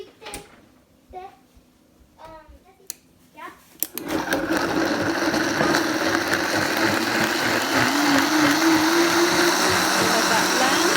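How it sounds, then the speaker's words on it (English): A few seconds of talk and handling noises, then a blender starts abruptly and runs loud and steady, whirring through poblano sauce with milk, its pitch rising slightly as the mixture smooths out. "And we'll blend this up."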